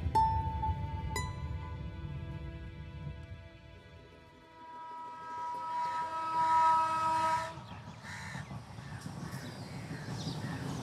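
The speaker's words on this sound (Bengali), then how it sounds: "এই সেই ট্রেন" A train rolls past on a railway line with a loud horn blast near the start, then the rumble and clatter of the wagons swells and fades while crows caw in the background.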